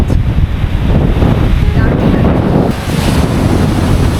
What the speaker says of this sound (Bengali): রিসর্টটা ও কি ঢেউ ভাই কি সমুদ্র